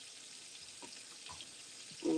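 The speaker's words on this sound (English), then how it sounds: "I'm frying whiting and fried shrimp" Whiting fish fry in hot oil with a faint, even sizzle, soft knocks of a utensil in the pan and a short louder tonal sound at the very end.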